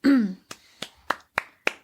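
A handful of sharp hand claps, about five evenly spaced, ring out close and fairly loud right after a brief voiced exclamation at the start.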